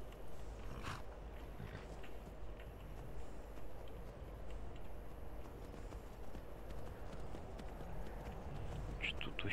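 Horse hooves clip-clop in Skyrim while the horse runs through a snowstorm, a steady galloping patter set against a dense, noisy wind-and-music bed throughout.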